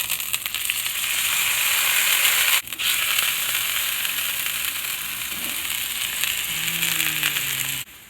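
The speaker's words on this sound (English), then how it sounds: "Time to sear." Sous vide cooked meat searing in a hot pan, with a loud continuous sizzle close by that briefly cuts out, plus a soft voice-like tone near the end.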